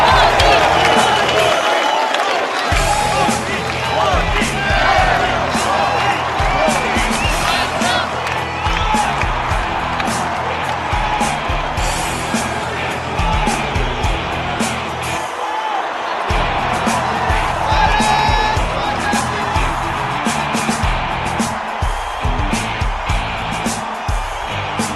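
An audience at a political event cheers and applauds in a dense, sustained wash of clapping and shouting that stays loud throughout, with brief dips in the noise.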